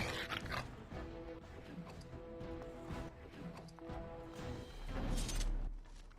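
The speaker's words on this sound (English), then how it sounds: "They're fucking dogs, too." Dogs barking and whimpering during combat in the video game Dragon Age: Origins, with yelps and growls mixed into busy battle sounds and music at a steady, fairly loud level.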